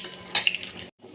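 Cinnamon, cardamom, bay leaves and five-spice seeds stirred briefly in hot oil, a short close scrape and sizzle with a sharper burst partway through before it cuts off.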